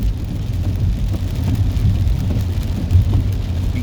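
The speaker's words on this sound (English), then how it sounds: "because it is raining here in the city of brotherly love" Rain falls steadily on a city street, a dense, even wash of low rumbling noise with traffic-like hum underneath and no voices.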